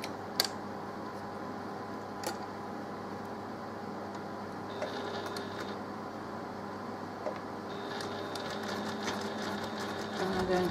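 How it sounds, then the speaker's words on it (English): A sewing machine runs steadily while stitching a quilt block into the corner of a mock cathedral window block, a quiet continuous mechanical whir with a few small clicks and taps, no talk. "Going to sew into the corner."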